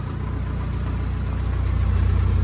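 A 1976 Land Rover Series 3 88-inch diesel idles outdoors just after a cold start, with a steady close rhythmic low chug and a slight knock, alone and fairly loud throughout.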